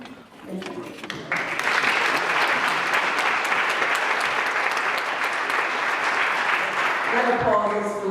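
Sustained audience applause fills a hall at a Martin Luther King Jr. commemoration, swelling quickly after a brief spoken line and holding loud and dense for several seconds.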